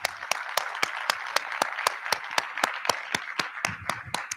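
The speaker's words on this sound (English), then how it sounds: "would everyone please join me in a round of applause for Ms. Reese, Mr. McGinnis, and Mr. Rooksto" Applause from the audience at a school board meeting, a sparse, moderate round of individual hand claps with uneven rhythm, fairly close and carrying on steadily without speech.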